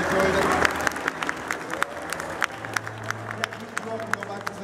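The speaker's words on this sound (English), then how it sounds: "Big round of applause for today's judges." Crowd claps for the judges at a 2017 fair cooking competition: a burst of applause thins into scattered individual claps over low crowd chatter.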